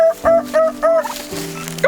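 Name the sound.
heritage turkeys gobbling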